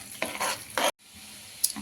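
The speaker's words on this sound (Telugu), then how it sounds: "ఆనియన్ కలర్ చేంజ్ అయ్యే వరకే ఫ్రై చేసుకోవాలి" Onions stirred and sizzling in a pan for a chapati paneer roll filling, with a few bursts of stirring and frying close by, a brief silent gap, then quieter sizzle and another short scrape.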